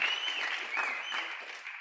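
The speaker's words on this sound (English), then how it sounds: "Y'all can clap for that." Audience applauding at a launch event, a brief, moderately soft wash of clapping that fades slightly toward the end.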